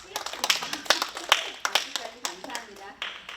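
Scattered clapping from a small seminar audience: a dozen or so uneven hand claps, close and fairly sharp, mixed with people talking.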